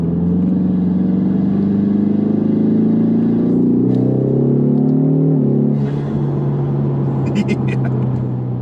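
A Ford Mustang EcoBoost with a Mishimoto cold air intake roars through a pull from inside the car, its engine note rising then easing off, with the intake's airy suction beneath and a person talking over it.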